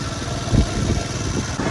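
Motorcycle engine rumbling steadily while riding slowly over a rough, rain-damaged road on Quetta's Eastern Bypass, with low uneven thumps and jolts from the bumpy surface throughout.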